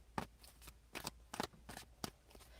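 Playing cards being shuffled by hand, a run of five or six crisp riffling bursts at a steady rhythm, close and clear with no talking.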